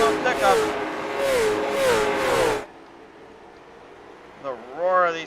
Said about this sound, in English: The roar of these cars as well, man. Absolutely impressive to hear.